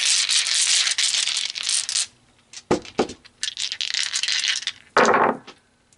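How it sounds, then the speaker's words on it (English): Dice shaken and rolled for a tarot reading, heard as a long rattling shake, then a few sharp clattering knocks as they tumble and land, ending in a final rattle close to the microphone. "let's pull some dice"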